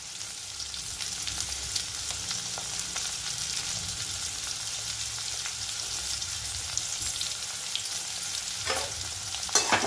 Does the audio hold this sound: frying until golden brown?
yes